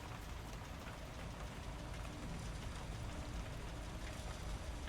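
Steady rain patters continuously in the Phasmophobia ghost-hunting game, a dense, even wash of noise with a low rumble beneath it and no voices.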